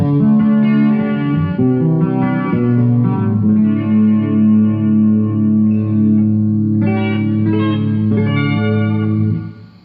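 Electric guitar in stereo through a chorus effect, playing sustained, shimmering chords and melodic lines with reverb and light grit, loud and steady throughout before fading at the end.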